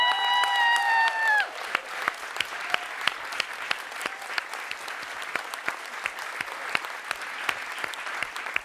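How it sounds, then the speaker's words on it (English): Audience applause at a closing plenary session of a young-leaders event, a steady broad wash of many hands clapping that follows a few brief tonal notes at the start and carries on evenly to the end. "And then the biggest applause, if you will indulge me, is to the amazing Solve staff."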